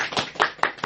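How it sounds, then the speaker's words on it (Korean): A church congregation claps in welcome, several short bursts of hand claps coming in quick irregular waves over less than a second, moderately close and not especially loud. "박수로 환영하겠습니다."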